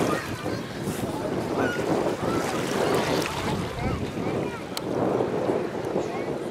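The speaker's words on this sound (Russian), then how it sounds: "Волны." Sea waves wash onto a central public beach, a continuous surging roar of surf with gusty wind buffeting the microphone, close and fairly loud.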